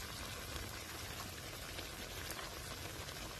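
Rain falls steadily outdoors, a dense, even hiss of drops that is faint but continuous, with no voices.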